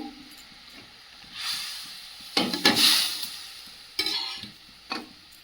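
Raw hilsa fish sizzles and hisses in a hot pan while a utensil scrapes and stirs in a few bursts; no talking.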